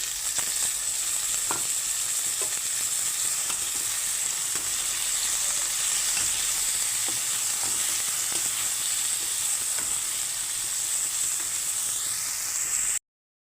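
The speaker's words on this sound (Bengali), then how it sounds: "আমি এখন চিংড়ি মাছগুলো ভেজে নেব পেঁয়াজের সঙ্গে" Prawns sizzle with browned onions in a pan, a steady, close frying crackle lasting over thirteen seconds, dotted with occasional light taps and stirring clicks.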